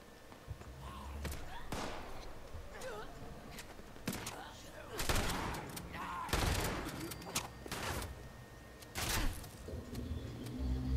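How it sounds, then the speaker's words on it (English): Gunfire in Fallout 76 punches through a wall in repeated sharp bursts and single shots spread irregularly over several seconds, moderately loud over a steady game background, with occasional voices. "He's shooting through the wall like it's nothing."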